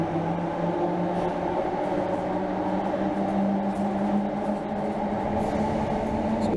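A Thameslink train travels between Kentish Town and West Hampstead, heard from inside the carriage as a steady low rumble and hum with a faint whine, continuous and even throughout.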